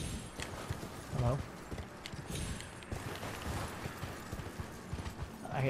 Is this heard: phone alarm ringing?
no